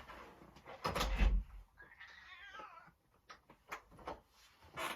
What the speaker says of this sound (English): Psychopath cat.